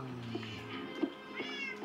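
Cats in the Minecraft video game meow close by, with several short, clear meows spaced across about two seconds over a soft background.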